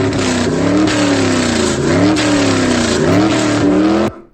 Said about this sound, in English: I am going to move my car with the sound with the